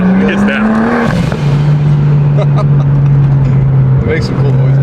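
A BMW 135i with an N54 engine converted to a single turbo and fitted with a Valvetronic Designs exhaust drones loudly at a steady pitch that drops slightly as the car pulls along, with people talking over it.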